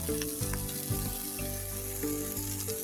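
Thinly sliced onions frying in a pan, a continuous close sizzle with occasional scraping stirs and faint clinks, sitting over a low steady hum.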